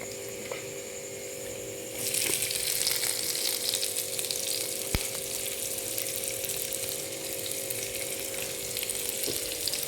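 Thinly sliced onions dropped into hot oil where garlic has browned: after two seconds of low hum the frying jumps into a loud, dense sizzle that continues steadily, with a steady tonal hum underneath.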